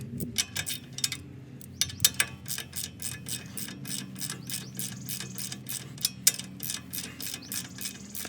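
A ratchet turns a 21 mm socket to loosen an upper control arm spindle bolt on a truck with a 2.5-inch level kit, making a quick, even series of close, sharp clicks with no speech.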